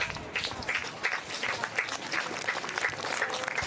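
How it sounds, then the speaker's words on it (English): Crowd applause at the final of a lawn bowls mixed pairs event at the Australian Open, a steady spread of clapping hands that fills the whole stretch at moderate distance, with no voices over it. "Yes, the crowd applause, and so they should."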